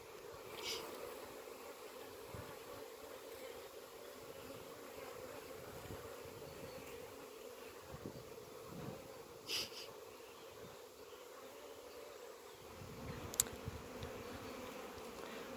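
Honeybees at an open hive during an early summer brood inspection fill the air with a constant, soft, close buzz, and a few brief rustles and knocks break through it.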